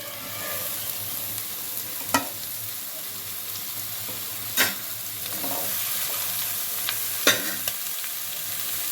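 Cucumber pieces frying in a pan for a Telugu-style dry mutton curry, a steady soft sizzle broken by a few sharp stirring scrapes of the spoon, close and moderately quiet with no talking.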